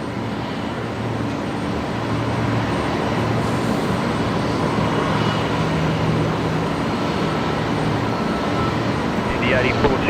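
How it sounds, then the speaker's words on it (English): A Fokker 70 in Queensland Reds livery approaches Brisbane Airport, its engines a low, steady rumble throughout while people talk over the top. "And Fokker coming in next."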